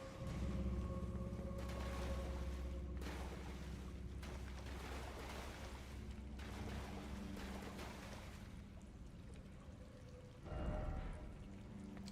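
Water leaking inside a video game scene: a steady, rushing, splashing flow with a continuous low rumble, persisting throughout and briefly surging near the end.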